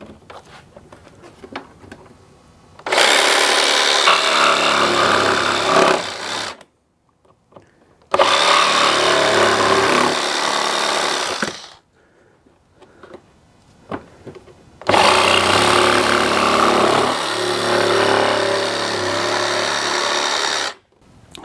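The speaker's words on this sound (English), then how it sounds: "So I'm actually going to use my jigsaw." Jigsaw cutting through thick plastic bumper cover on a Mercedes ML350 during a trailer hitch install, three loud sustained cutting bursts of a few seconds each separated by short quiet pauses.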